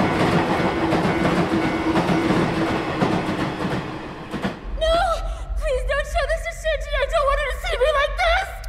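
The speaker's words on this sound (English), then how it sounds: "there's like this just like really loud train noises over it" Loud, steady train rumble with rattling clatter fills an Evangelion anime scene for several seconds, then cuts off abruptly as voices take over.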